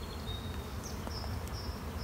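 Honey bees buzz around an open hive in a steady, dense drone, with a few individual bees whining past close by.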